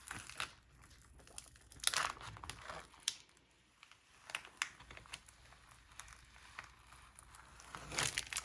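Transfer tape being peeled slowly off a vinyl stencil on a board, giving faint, close crinkling and soft tearing crackles with a few sharper ticks scattered throughout.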